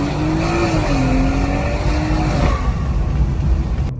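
A loud 2019 BMW 440i engine climbs steadily in pitch under full-throttle acceleration, then briefly drops as it shifts and keeps roaring close by.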